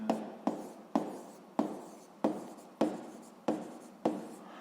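A pen or chalk writing a physics force equation, giving seven evenly spaced scratchy strokes about two-thirds of a second apart, each starting with a tap and fading, close and fairly quiet, with no voices.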